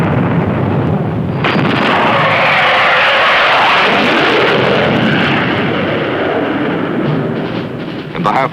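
Heavy gunfire and artillery roar almost without a break during a U.S. Marine beach landing at Red Beach One in Vietnam. The barrage is loud and dense and fades slightly at the end.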